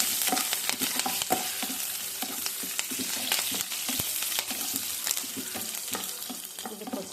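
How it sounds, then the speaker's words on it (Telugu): Cashews, curry leaves and chilies frying in a pan of oil for carrot rice, a steady close sizzle broken by frequent clicks and scrapes of stirring throughout. "ఇది కొద్దిసేపు వేగనివ్వాలి."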